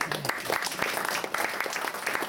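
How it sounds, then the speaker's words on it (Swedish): Audience applause at a jazz concert with a big band, a dense, steady wash of clapping from a sizable crowd, loud and close, continuing throughout. "Ni kan ge honom en varm applåd."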